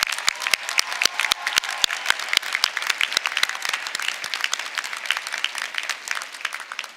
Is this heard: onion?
no